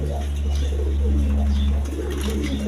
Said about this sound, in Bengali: দর্শকবৃন্দ, এখানে এক পেয়ার মসলদম কবুতর আছে।